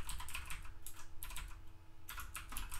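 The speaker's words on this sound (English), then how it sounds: "I'm typing it in." Rapid typing on a computer keyboard during a livestream, steady bursts of clicky keystrokes close to the microphone with brief pauses, no talking.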